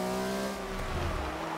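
A 2011 Flying Lizard Porsche race car in the Forza 6 racing game holds a steady, high engine whine with clear harmonic tones that dip slightly, plus a brief tire squeal, heard close and alone for under two seconds.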